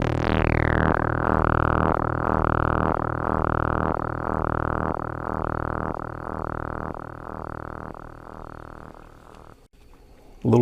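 A Korg Volca NuBass synthesizer drones a thick, buzzy bass tone pulsing in a fast repeating rhythm from LFO modulation, loud and steady for about nine seconds before cutting off, with nothing else heard.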